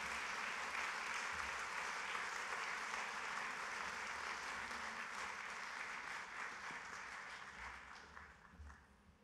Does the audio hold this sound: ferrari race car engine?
no